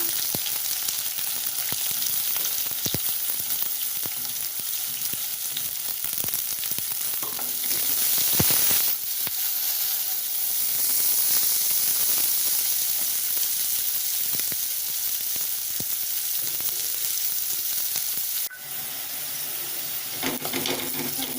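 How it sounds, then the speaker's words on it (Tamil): Curry leaves and onions fry in oil in a pan for a ridge gourd curry, giving a loud, continuous close-up sizzle. Occasional stirring scrapes break through it, and a brief dip comes partway through, with no voices. "கொஞ்சம் கருவேப்பிலை பொரிஞ்சதும் வெங்காயம் எடுத்துட்டு போகிறோம்"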